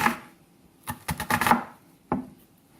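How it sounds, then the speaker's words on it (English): Knife chopping an onion on a board: a quick run of five or six sharp cuts in the middle, then one more solitary chop, close and fairly loud with no talking. "you chop it up"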